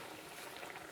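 Sweet and sour sauce returning to a boil in a pan, a steady dense bubbling and sizzling texture heard close up and without pause, with no voices over it.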